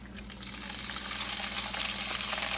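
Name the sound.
oil sizzling while frying fish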